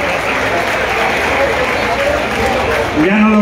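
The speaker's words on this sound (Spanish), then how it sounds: "¡Fuerte los aplausos!" Sustained applause from a crowd at a fishing tournament event in Catazaja, Chiapas, a dense continuous clatter of clapping holding steady, with a voice breaking through near the end.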